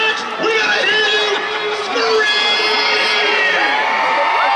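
Children in a crowd at a ballpark scream and cheer loudly and continuously at a Memorial Day weekend game, with a sustained wall of high-pitched shouting and whoops close by.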